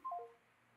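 A short run of telephone dialing tones, a few quick beeps stepping in pitch within under a second, faint and close, followed by a low steady hum.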